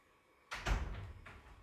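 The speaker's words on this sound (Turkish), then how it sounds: "Hadi kapıyı kapatsana sen." A door swings shut indoors with a soft thud, followed by a brief rattle and a faint second knock, close by and fairly quiet in an otherwise still room.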